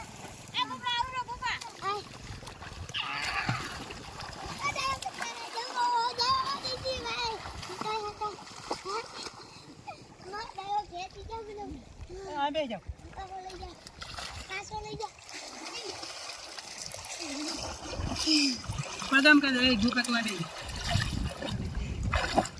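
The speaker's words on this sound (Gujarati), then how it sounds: "એકદમ જોર જોરથી પાણી જાય" Water of the Banas river rushes and splashes near the bank, a continuous churning wash under frequent talk from a man and a child.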